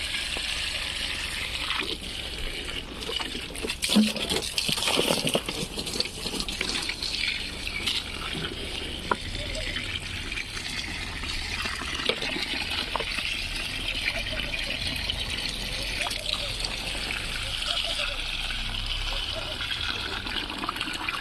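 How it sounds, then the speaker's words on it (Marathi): Steady water trickling and splashing from a tap into a container for a long stretch, with a brief louder gush early on and faint voices in the background. "फुल असं पाणी मारून घेतो मी पाणी सुटल्यानंतर नळाला"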